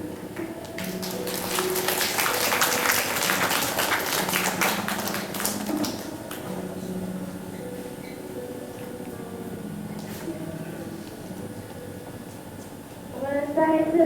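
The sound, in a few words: church congregation applauding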